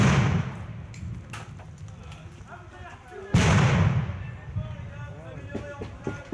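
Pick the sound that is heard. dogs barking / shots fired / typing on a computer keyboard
shots fired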